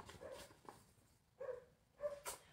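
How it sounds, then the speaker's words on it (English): Pet dogs bark at home, probably at a delivery arriving: a few faint, distant bursts of barking spread across a quiet room. "Sorry, you can hear my dogs."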